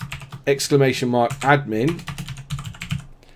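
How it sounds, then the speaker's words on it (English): Keys clatter on a computer keyboard while a chat command is typed during a PC game, a voice talking over much of the quick, close tapping. "I prefer to type to go into chat, type this !admin"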